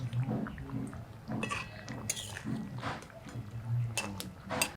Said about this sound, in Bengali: মাছের পিসগুলো সাবধানে উল্টে দিই